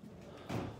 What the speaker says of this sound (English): You got your barn door